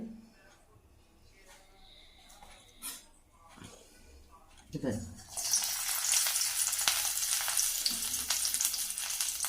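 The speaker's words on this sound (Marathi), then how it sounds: "एक एक करून आता याच्यामध्ये टाकणार तेलामध्ये गरम तेलामध्ये" Chilli and potato bhaji fritters drop into hot oil and fry, a loud steady sizzle rising after a few quiet handling noises and soft kitchen sounds.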